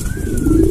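Cooing from a red checker pigeon, a large high-quality male, at a pigeon farm sale, a steady low murmuring coo held close and continuous under faint background noise.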